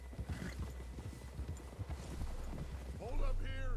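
Horse hooves clip-clop at a steady walking pace in the Red Dead Redemption II video game, close and rhythmic under continuous talk, ending with a short whinny.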